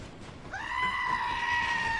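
A goat bleat plays as a livestream alert during a Hades gaming stream: a single drawn-out, wavering nasal cry that starts abruptly and holds steady to the end, loud and close over faint background hiss.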